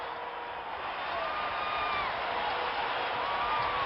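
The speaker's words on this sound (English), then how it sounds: "And listen to this crowd." A hockey arena crowd keeps up a steady, fairly distant roar of cheering after the New England Whalers' win over the Soviet national team, with a few whistles rising above it.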